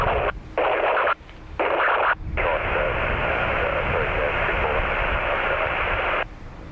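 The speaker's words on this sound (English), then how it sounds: "Whatever that was on the scanner." Loud, steady hiss of static from a radio scanner at an airport plane-spotting spot, broken by a few brief dropouts near the start and then running continuously.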